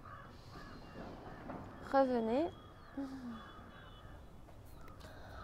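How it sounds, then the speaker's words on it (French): Outdoors, a crow caws in a short burst of harsh calls, fairly clear against quiet background noise, followed by a fainter single call; a soft voice speaks briefly nearby. "Vous entendez les oiseaux."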